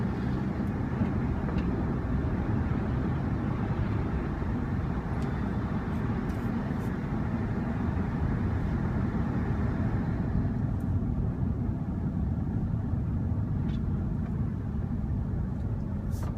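A 2015 Audi S3 with Quattro all-wheel drive on Blizzak WS80 winter tyres drives through snow, its steady engine and road rumble continuous and close throughout, with no talking.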